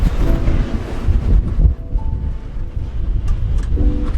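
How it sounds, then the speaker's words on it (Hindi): Wind gusts past a higher-floor home, a rough blustery roar buffeting the microphone and swelling and easing unevenly, with faint tonal hums in the background and no talking. "अभी आज हवा बड़ी प्यारी चल रही है।"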